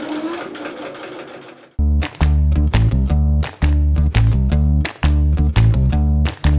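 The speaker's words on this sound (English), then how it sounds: "So I'm going to click sew. There we go. Put this here. And it does a stay stitch." A Grace longarm quilting machine runs an automated stay stitch, its motor starting abruptly after a short quiet stretch and then humming loudly in repeated bursts separated by brief clicks and pauses.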